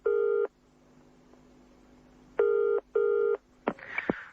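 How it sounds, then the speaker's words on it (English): Telephone answering machine tones for the home line of a social worker, Rachel Lingard: a half-second tone, a pause, then two more tones in quick succession before a short clatter, with no talking. "Just leave a message after this rather unpleasant noise."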